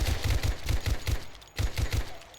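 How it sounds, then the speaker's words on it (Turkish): Uzi submachine gun fired in the survival video game 7 Days to Die, two rapid bursts of about six sharp shots each, separated by a short pause, loud and close. "Bakalım Uzi nasılmış"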